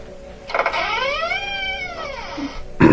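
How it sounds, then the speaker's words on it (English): A magic door opens in an Alexa story game set in a dark forest: a short, loud whooshing creak with rising then falling magical tones, ending in a brief thud. "Alexa, open the magic door."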